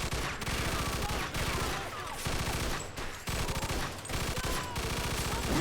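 Rapid bursts of gunfire in Mafia II, a dense fusillade of overlapping shots and automatic fire rattling continuously, fairly loud and filling the whole stretch without pause.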